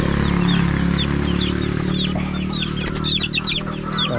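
Young chicks being fed booster feed chirp in quick, high, repeated peeps over a steady low hum, growing busier and more overlapping toward the end.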